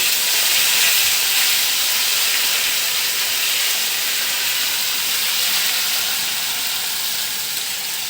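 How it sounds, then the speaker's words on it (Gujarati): Garlic, chili and ginger paste hits hot oil with cumin and asafoetida, giving a loud, steady, dense sizzle that hisses without a break. "પછી આપણે લસણ મરચાં આદુની પેસ્ટ નાખીશું"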